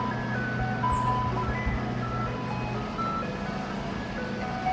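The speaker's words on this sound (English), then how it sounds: "Here's an ice cream boat, not an ice cream truck." An ice cream boat on Smith Mountain Lake plays its tinkling jingle, a steady melodic chime carrying over a constant low engine drone, moderately loud and continuous throughout.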